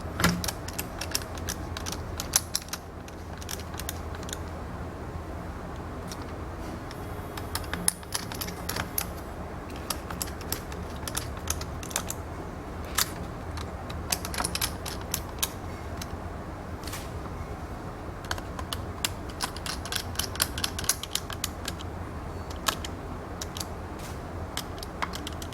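A screwdriver turns screws inside a Flysky i6 radio transmitter during a mode 1 to mode 2 conversion, giving a long run of small, close clicks, ticks and scrapes over a steady low hum, with no talking.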